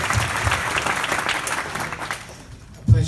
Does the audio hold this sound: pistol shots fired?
no